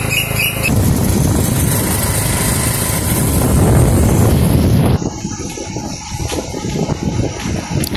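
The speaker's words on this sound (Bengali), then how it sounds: "তো মোটর সাইকেলে বসে পড়ছি" A motorcycle rides along a village road, its engine droning loud and steady with a rushing wind roar, then the tone shifts and thins partway through as the ride continues.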